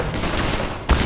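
SMG gunfire in the game Half-Life 2, a dense rapid burst of shots sounding loud and close, with a sharper impact near the end.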